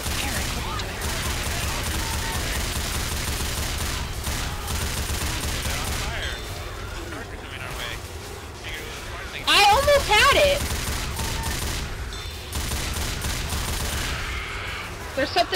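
Rapid bursts of gunfire ring out in a cooperative zombie shooter, dense and continuous, with louder volleys partway through. Players shout and talk over the shooting.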